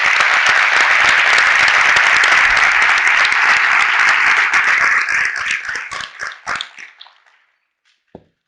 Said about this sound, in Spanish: el primer aplauso yo lo quiero para vosotros por estar aquí un sábado por la mañana